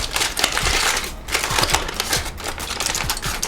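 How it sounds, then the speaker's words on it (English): Rested tri tip being unwrapped, with close, loud crinkling and crackling of wrapping material in quick irregular bursts and no talking. "Unwrap it now."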